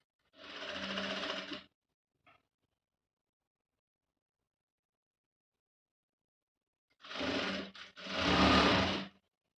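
Sewing machine top stitching a dress, one short burst, a long silence, then two more close bursts, near and clear with no talk.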